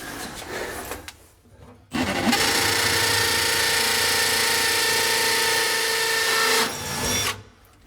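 A cordless SDS drill bores steadily into concrete for several seconds, loud and close, with a brief spin-up before and a tapering stop.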